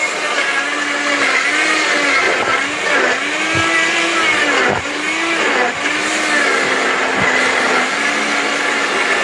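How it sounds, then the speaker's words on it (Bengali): A Pankha electric blender grinds ginger and garlic with a loud, steady whir that runs the whole time, its motor dipping briefly a few times as the load shifts. "এটা পাংখা ব্লেন্ডার ভাই, পাংখা ব্লেন্ডার"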